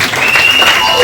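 A church congregation applauding to acclaim Jesus: a loud, dense burst of clapping from a crowd, with voices and a sustained tone mixed in, lasting about a second.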